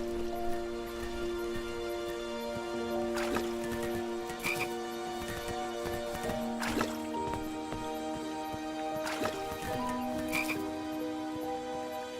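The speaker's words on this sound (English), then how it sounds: "I was too slow to catch those frogs." Frogs croak in the King's Quest video game, with repeated sharp croaks at irregular intervals over a steady tonal game soundscape and a soft rain-like hiss.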